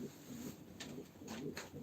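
A male crested iridescent pigeon coos in soft repeated phrases at a live pigeon auction, close by and moderately quiet, with faint room noise around it.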